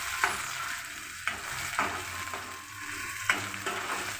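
Onions frying in a pan with a bay leaf, a steady close sizzle with several sharp spoon scrapes and stirring knocks against the pan.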